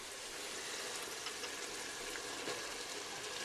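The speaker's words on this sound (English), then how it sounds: "You're going to stir this up really good and cook for about, a couple minutes." Flour being stirred into cooking onions in a pot for chicken stew, a steady broadband hiss and sizzle with faint scraping, continuous and fairly quiet throughout.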